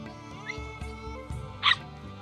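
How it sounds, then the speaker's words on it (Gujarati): A dog brought along by visitors to a park in the UK gives a short, high yip near the end, along with a faint whimper earlier, over a steady background. "જો આ બધા કૂતરાને લઈને આવતા હે, જો ડોગીને લઈને."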